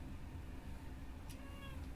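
A small pet cat, coaxed with treats indoors, gives a couple of faint, brief meows over a steady low background hum.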